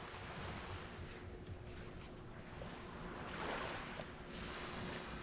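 Calm, nearly waveless sea at a resort beach in the Dominican Republic with boats nearby, heard as a steady soft wash of water and wind, a faint continuous hiss without distinct breaking waves.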